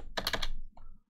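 Rapid keystrokes on a computer keyboard while writing a PowerShell script, a close, crisp burst of several quick taps that stops abruptly, followed by a faint brief tone.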